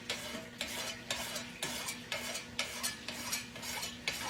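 A pot of chicken and dumplings simmers as dumplings are stirred in, with quick repeated spoon scrapes against the pot over a soft bubbling sizzle, close and moderately quiet.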